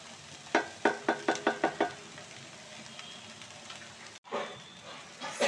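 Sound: radish leaves being sautéed on slow flame

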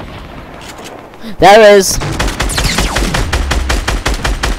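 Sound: gunfire from the video game Fortnite

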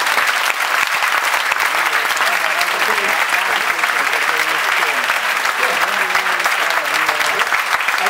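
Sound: applause

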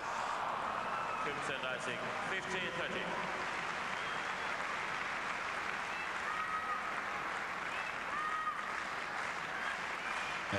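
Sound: noisy tennis hall crowd with shouts

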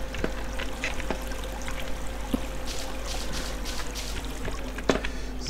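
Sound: water pouring in the video game Minetest

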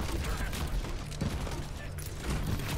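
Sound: gunshots in a video game

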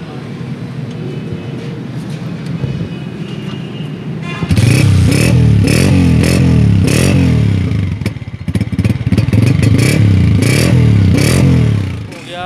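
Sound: Honda 125 motorcycle engine running and revving

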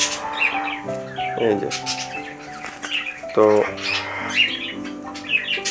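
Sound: pigeons

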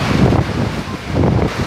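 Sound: strong wind during a storm

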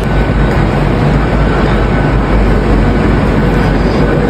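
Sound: train arriving at station platform

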